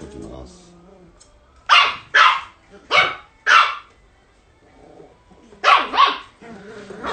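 A four-month-old Pomeranian puppy barks during grooming, six sharp close barks in two bunches with quiet pauses between.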